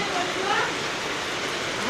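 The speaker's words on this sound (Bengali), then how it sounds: "কি জোরে বৃষ্টিটা নামলো" Steady heavy rain hisses continuously, a dense wash of noise with no pauses.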